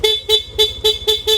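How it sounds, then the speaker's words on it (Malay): A car horn honks six times in a steady, evenly spaced rhythm, loud and close, each toot a short bright beep over a low engine rumble. "Hon sikit."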